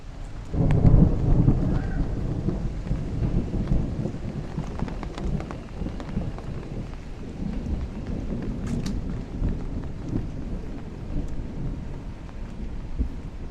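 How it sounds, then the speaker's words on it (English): Heavy rain falls steadily on a Brooklyn street in Bay Ridge while thunder from a nearby lightning strike booms early on and rolls on under the downpour. "That sounded like a positive strike, so definitely grab something somewhere."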